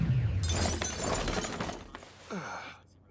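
Glass vases shattering: a long, loud crash of breaking glass with scattering shards, then a short gasp-like voice near the end before it fades.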